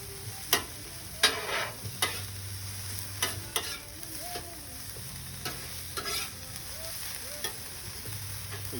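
Food sizzles on a flat-top griddle in a steady, quiet crackle, broken by occasional metallic spatula scrapes and taps as it is stirred and turned.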